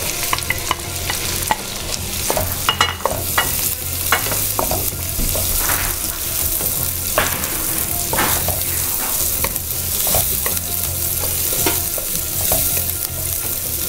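Chopped onion frying with ginger and garlic for chicken tikka masala, a loud continuous sizzle broken by frequent scraping stirs and clinks of the spoon against the pan, close up with no voices.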